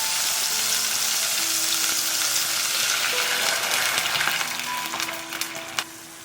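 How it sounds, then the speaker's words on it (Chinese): Tomatoes stir-fry in a hot wok with ginger strips, loud continuous sizzling with occasional stirring scrapes, then boiling water poured in softens the hiss toward the end; no talking. "把番茄拌进来炒，稍微翻炒一下，加入开水"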